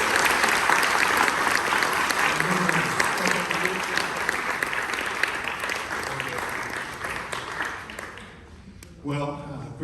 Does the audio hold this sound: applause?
yes